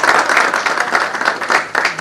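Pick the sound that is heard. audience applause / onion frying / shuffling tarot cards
audience applause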